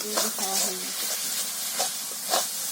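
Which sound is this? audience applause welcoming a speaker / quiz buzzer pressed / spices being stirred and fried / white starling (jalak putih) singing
spices being stirred and fried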